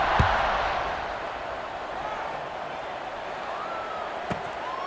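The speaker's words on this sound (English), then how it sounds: "this crowd is buzzing after that last score" Stadium crowd in the EA Sports College Football 26 video game, a steady loud roar of buzzing fans filling the whole stretch, with a couple of brief thumps rising above it.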